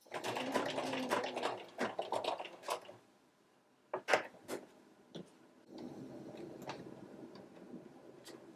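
Sewing machine stitching an inverted skirt pleat in short close runs of quick ticking needle strokes, pausing midway before starting again.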